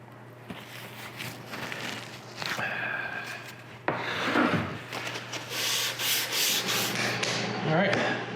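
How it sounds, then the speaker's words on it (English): Hand sanding along the radiused edges of wooden butcher block countertops: a series of rasping, brushing strokes of varying length, close and fairly quiet, with a steady low hum underneath. "Do a little hand sanding around the edges on these radius."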